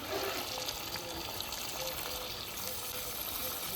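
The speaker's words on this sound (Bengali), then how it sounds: "এবার এই থালাটা ধোয়ার জলটা দিয়ে দেবো" Plate-rinsing water poured into a cooking pot of fish and tomato curry, a quiet continuous gush and trickle of liquid with faint clinks, no speech.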